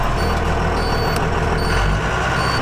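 A bus reversing into storage, a steady high electronic beep repeating under a loud, constant engine rumble, with a brief hiss midway.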